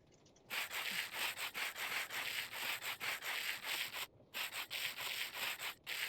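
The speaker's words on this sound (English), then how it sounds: "Grab my diamond grit sandpaper." Sanding with diamond grit sandpaper in Minecraft, heard as a loud, steady run of rhythmic rubbing and scraping strokes that breaks off briefly near the middle and again near the end.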